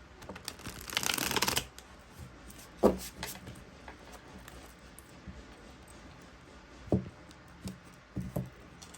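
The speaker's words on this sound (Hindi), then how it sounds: "इस डेक से भी मैं बिल्कुल ऐसे ही 6 कार्ड्स निकालूंगी" Tarot cards riffled and shuffled in one long burst, then single cards slid out and set down as a few soft, separate taps and flicks in a quiet room.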